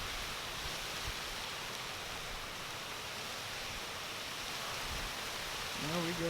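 Tropical Storm Isaias brings a steady, loud roar of strong wind and heavy rain outdoors, a dense unbroken wash with a brief voice near the end.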